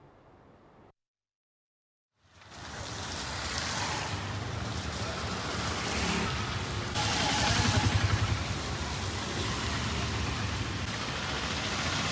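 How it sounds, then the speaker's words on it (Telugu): Heavy rain pours in Tirumala during a midday downpour, a loud, steady broadband wash that starts after a brief quiet gap and holds for about ten seconds, swelling slightly near the end, with no voices. "మధ్యాహ్నం సమయానికి వాతావరణం పూర్తిగా మారిపోయి జోరువాన కురిసింది."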